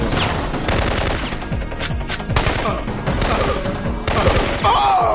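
Video game gunfire rattles almost nonstop, loud and close, with overlapping automatic bursts and single shots packed together and no real pause.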